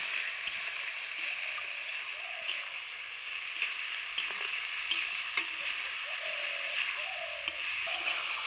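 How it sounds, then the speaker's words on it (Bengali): Fried potatoes with ginger, cumin and green chilli are stirred in a pan, a gentle steady sizzle broken by light scraping clicks of the spoon at irregular intervals, close and moderately quiet. "এই মশলাটা দিয়ে খুব সুন্দর করে কষিয়ে নেব।"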